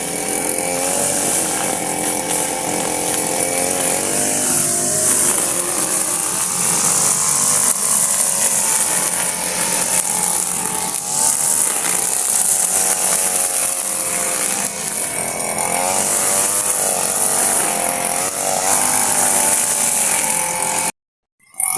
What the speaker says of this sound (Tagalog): At dito na naman si Kuya Eddie na grass cutter.